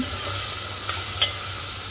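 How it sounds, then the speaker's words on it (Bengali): Onions fry in hot oil in a cooking pot, giving a continuous hissing sizzle with a couple of soft stirring knocks, close and steady throughout. "পেঁয়াজগুলো দিয়ে ভালো করে নাড়াচাড়া করে নিলাম"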